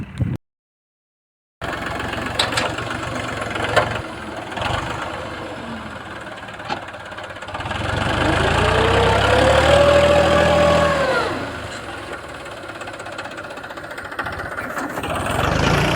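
A heavy tractor engine runs continuously nearby, its chugging growing louder and rougher for a few seconds before settling back.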